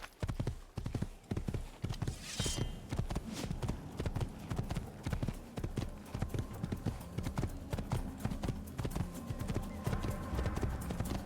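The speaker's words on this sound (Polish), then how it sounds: "Na koń i jedziemy, jedziemy, jedziemy." Horse hooves clip-clopping at a steady riding pace in the video game Assassin's Creed, a continuous rhythmic patter of hoofbeats with a brief brighter burst early on, and no clear speech over it.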